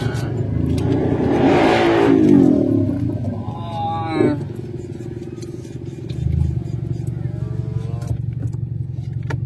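A car pulls out of a parking lot at night in Singkawang and turns left onto the road, its engine humming steadily up close with a swell of revving and passing traffic noise around it.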